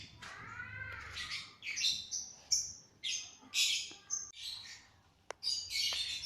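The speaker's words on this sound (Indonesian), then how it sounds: "Ini burung labet di rumah saya, suaranya keras sekali ya." A pet bird kept at home gives loud, shrill calls in repeated bursts, close by and with no talking.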